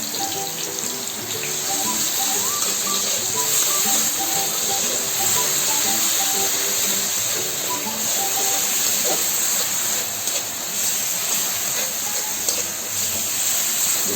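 Garlic paste mixed with green chilli paste hits a hot pan for mutton ghugni, giving a steady, close, hissing sizzle that holds for the whole stretch, with faint tonal sounds in the background.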